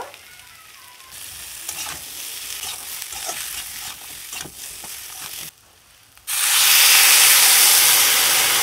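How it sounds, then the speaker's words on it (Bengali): Boiled taro sautés with spices and green chilli in a hot pan, a close sizzle broken by stirring scrapes and knocks, then a short quiet gap before a much louder, steady hissing fry. "কচুটা মশলার সাথে কষিয়ে নেব। কাঁচামরিচ দিয়ে দেব।"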